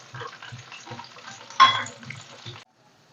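Raisins for a coconut milk payasam fry in a pan, heard as a rhythmic series of soft thuds and clatters from stirring, with one brighter burst of sizzle before it all cuts to silence.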